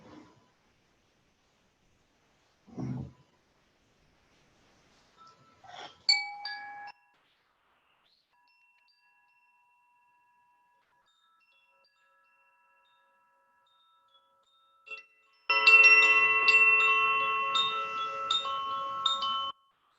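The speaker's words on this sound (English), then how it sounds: "I'm going to sound the bell as we're coming out of meditation." A meditation bell rung to close a quiet meditation session gives a clear, bright ring that sustains and slowly decays over several seconds near the end, after faint earlier taps and rustles in an otherwise silent room.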